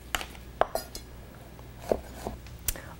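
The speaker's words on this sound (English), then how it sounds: "ready to slice up our baby bella mushrooms with my Rada French chef's knife" A Rada French chef's knife slices baby bella mushrooms, giving a few sparse, crisp taps and clicks against the board, spaced irregularly and fairly close.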